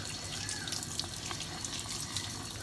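A faucet runs steadily into a sink while a makeup brush is rinsed clean, a soft continuous hiss of flowing water with faint splashes, close and unaccompanied by talk.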